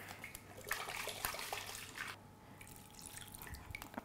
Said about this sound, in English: I saved a little bit of water just to rinse out the blender